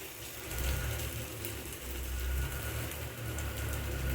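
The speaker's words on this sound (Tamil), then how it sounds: "பக்கத்தில் டிராக்டர் ஓடிட்டுருக்கு, அதான் ஒரு டிஸ்டர்பன்ஸ் சவுண்டு." A tractor engine runs nearby in a rural setting, a steady low rumbling drone that stays fairly faint and unbroken throughout, with no talk over it.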